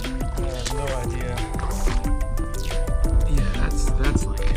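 Someone wades through deep, river-like water on a trail at Dolly Sods, West Virginia. Close splashing and sloshing runs throughout, and a voice talks over it.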